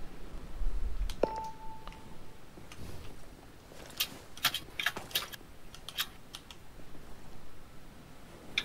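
Electronic beeps and clicks from hacking a surveillance system in Ghost Recon Breakpoint: a brief steady tone, then scattered quick clicks and bleeps, faint over low background noise, with no talking.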